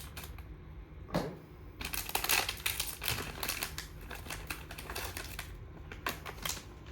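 A product box for a Rainforest Air negative ion generator being cut open, with crinkling and scraping of cardboard and packaging and a few sharp snaps, close and fairly quiet.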